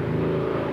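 A Honda Beat motor scooter engine idles steadily nearby, a smooth, even hum with a low rhythmic pulse throughout.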